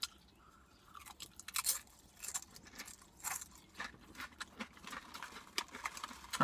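Someone chews margarita lime Quest protein tortilla chips up close, making soft, irregular crunches and mouth sounds that are fairly quiet.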